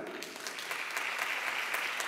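A crowd claps in unison to vote that a news item is false, dense continuous applause for about two seconds, loud and even, with no voices on top.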